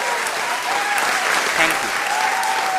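Cartoon award-show applause: a dense, steady wash of many hands clapping, loud and close, with a voice talking briefly over it.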